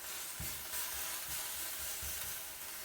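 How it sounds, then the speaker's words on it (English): Food sizzles in a pan on a hot burner, a steady close hiss with a few soft low thumps of stirring, heard alone without talk. "you can hear it still sizzling"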